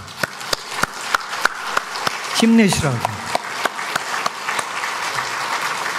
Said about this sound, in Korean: 우리 총회장님을 위해서 다시 한번 박수